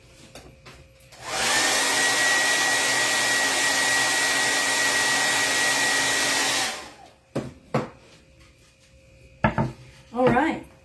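A dryer blows on a craft transfer for about five seconds as one loud, steady whoosh that starts and stops abruptly, followed by a few light clatters and knocks on the work surface.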